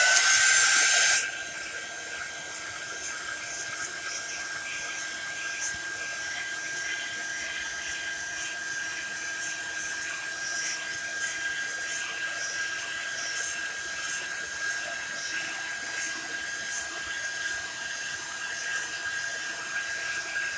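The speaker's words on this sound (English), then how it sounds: "I'm going to dry it with the heat tool. So here we go. A little loud for a minute." Heat tool drying chalk paste on a craft surface, a steady whirring blower hiss that starts with a brief louder burst and then runs on evenly and continuously at moderate level, with no talk.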